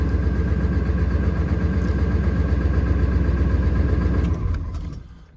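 Powerstroke diesel truck engine running in winter cold around 9 degrees Fahrenheit, a loud steady idle with rumbling clatter filling the scene, then fading down near the end as it shuts off.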